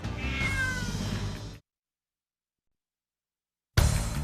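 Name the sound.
cat meowing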